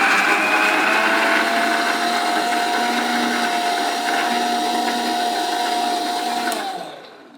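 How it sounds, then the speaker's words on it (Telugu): A mixer grinder jar whirs steadily while blending banana, jaggery and milk, a loud continuous motor whine with a high hum that holds for several seconds, then winds down and stops. "మనం ఈ మూడింటిని అంటే బనానా తర్వాత బెల్లం తర్వాత పాలు మిక్సీలో జార్లో వేసేసాం"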